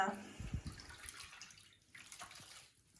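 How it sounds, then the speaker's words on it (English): Hand-dyed yarn is rinsed in water with a splash of soap to wash out acid dye, making close splashing and trickling sounds that fade into softer drips and sloshes. "one of the yarns that I did that just needs a little rinse. I just added a little splash of soap to get the acid dye out of the yarn"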